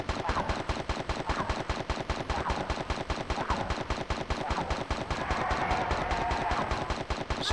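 Rapid pistol gunfire in the Tomb Raider III video game, a dense, continuous stream of sharp repeated shots at an even, fast rhythm, loud and close, with no speech over it.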